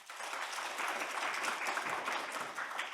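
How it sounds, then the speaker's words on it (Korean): Applause from attendees at a library humanities program workshop, an even wash of clapping, soft and somewhat distant, steady for the whole stretch. "최희루 사선님께 박수 부탁드립니다."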